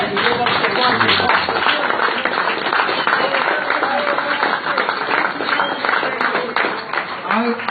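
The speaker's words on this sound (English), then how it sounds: "We owe Bob some applause." Audience applause in a public meeting hall, a dense, steady wash of clapping from a crowd that holds at a loud level through the whole stretch without pausing.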